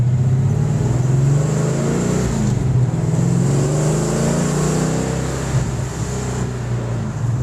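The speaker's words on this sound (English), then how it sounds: "That little small block loves to rev." A small-block V8 in a 1964 Ford Falcon convertible with a Tremec manual revs steadily, a loud continuous engine drone holding near-constant pitch with slight swells, heard close and alone.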